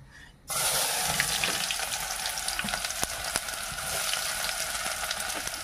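Whole spices hit hot oil on a farm, and a loud sizzle bursts in after a brief quiet moment, then holds steady and close with scattered clicks of stirring.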